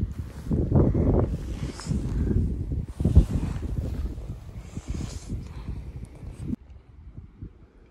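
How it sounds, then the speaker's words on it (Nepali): Cold wind gusts over a mountain trail on the Annapurna Base Camp trek, rushing and buffeting close to the microphone in uneven surges before easing toward the end. "अहिले चाहिँ चिसो चिसो हावा लगाइरहेको क्या"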